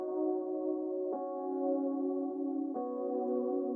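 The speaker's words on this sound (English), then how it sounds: "And I've got it with some tremolo, so it's going back and forth." A layered Serum synth preset with tremolo, a sustained harmonic pad-like tone that pulses back and forth, with two brief re-attacks, played alone at moderate level.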